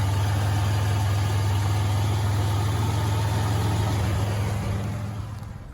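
A car engine with a leaking radiator hose idles steadily in a steady, close low hum that stays even before fading slightly at the end, with no talking.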